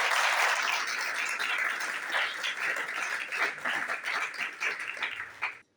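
Audience applause fills a church service during an Urdu-Hindi sermon, a steady dense clapping that holds for several seconds before stopping abruptly.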